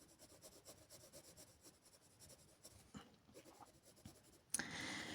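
Colored pencil shading on slightly rough paper makes a steady, close, scratchy rubbing of quick back-and-forth strokes at low volume. A sudden louder rustle cuts in near the end.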